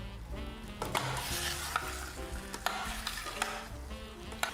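Saag aloo of spinach and potato frying in a pan on a gas hob, a busy close sizzle with repeated scraping and clinking as it is stirred, no speech.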